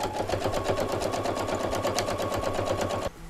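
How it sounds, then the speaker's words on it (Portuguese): A sewing machine stitches fabric for a cloth envelope wallet, running in a fast, even mechanical patter up close before stopping abruptly, with a faint hum left behind. "Vem costurando e termina com retrocesso."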